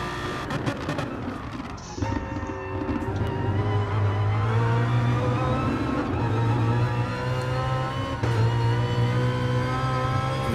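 A BMW GT race car in a sim racing game roars from the cockpit, its engine droning and rising through revs with brief dips at gear changes, loud and continuous.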